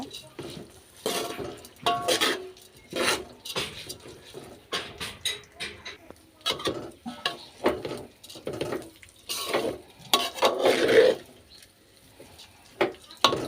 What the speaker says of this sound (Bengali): চালগুলো দিয়ে আমি একটু নাড়াচাড়া করে নেব